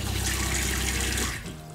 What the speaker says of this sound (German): Fließendes Wasser haben wir auch noch.